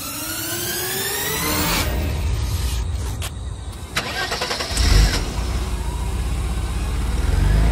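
Motorcycle engine cranking and catching outdoors, a loud rough mechanical rumble that builds and surges toward the end, with no voices over it.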